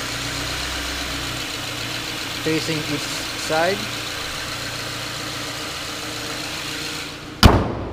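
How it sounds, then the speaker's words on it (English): A 2014 Subaru Impreza with a 2-liter boxer engine idles at a steady, low, even hum, close by, while someone talks briefly over it and a sharp knock sounds near the end. "The engine is idling down. It's a 2-liter boxer engine."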